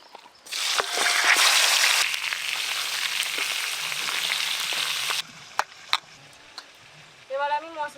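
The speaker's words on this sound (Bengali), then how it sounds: "এবার আমি সব মাছগুলো একসঙ্গেই ভেজে নেব" Several fish pieces fry together in hot oil, a loud, dense, close sizzle that runs for about five seconds and then cuts off, leaving scattered clinks and a brief voice near the end.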